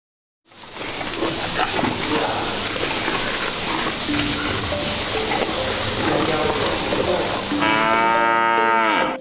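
At a cattle farm, cattle moo with a long, drawn-out call near the end over a dense, noisy barn background of shuffling and activity.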